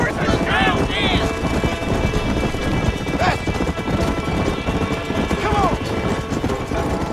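Rapid hoofbeats of a horse galloping in the Red Dead Redemption video game, a steady drumming clip-clop beneath excited shouting from players, with a couple of brief whinny-like sweeps over a dense, rumbling backdrop.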